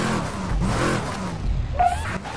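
A Dodge Viper GTS engine in the racing video game Midnight Club 3 revs and accelerates with a loud, steady roar and a brief rising whine near the end.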